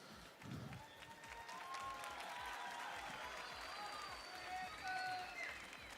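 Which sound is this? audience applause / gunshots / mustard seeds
audience applause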